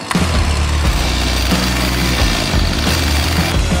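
A petrol-powered saw starts cutting into ice with a loud, close, continuous engine roar and a rough buzzing bite that holds steady throughout.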